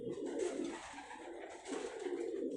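Salara pigeons cooing steadily in repeated low, rounded phrases, fairly near and alone with no talk.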